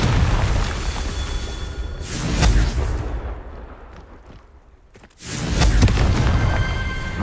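A Confringo explosive spell blast from Hogwarts Legacy: a deep booming impact that rumbles and fades, followed by a second heavy blast a few seconds later, loud and close.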